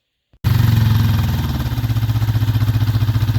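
Honda CB250 K5 motorcycle catching after a brief click, the engine firing up loudly and settling into a steady, throbbing idle with a rhythmic pulsing beat close to the microphone.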